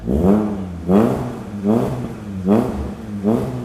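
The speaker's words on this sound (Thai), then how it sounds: "โอ้โหเสียงท่อผมบอกเลยว่าโคตรลั่นนะครับ" A 2017 Honda Jazz GK 1.5 S car exhaust revs loudly five times in a steady rhythm, each throaty burst rising and falling back to a rumbling idle, close by.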